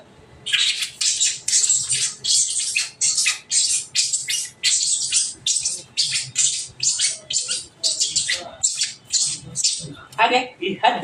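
Two lovebird parrots squawk nonstop nearby, a dense stream of shrill, harsh chirps and screeches that overlap and stay loud throughout.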